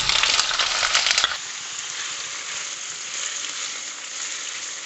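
Chicken sausage frying in a pan: a loud burst of crackling sizzle with stirring clatter for over a second, then settling into a steady, softer hiss of frying, no voices.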